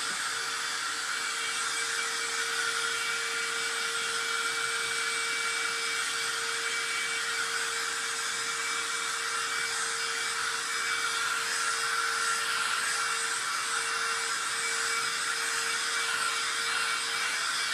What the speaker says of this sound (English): So now I'm using the actual blow dryer to make it hotter to do it quicker.